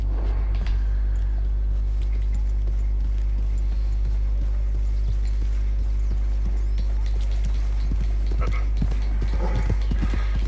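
Horse hooves trotting in Red Dead Redemption 2, rhythmic clip-clop over a constant low hum of game ambience, with a voice talking over it.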